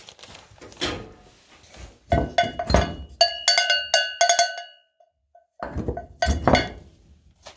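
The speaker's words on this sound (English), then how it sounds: "We got a cowbell." A metal cowbell from an old maple sugar shack is handled and struck, giving several ringing clanks in an irregular cluster, close and loud, with clinks and thumps between them.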